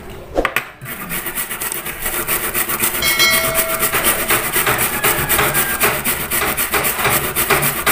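A burnt 5-peso coin is rubbed hard and fast, a steady close abrasive scrubbing with rhythmic strokes that runs continuously after a brief handling noise at the start.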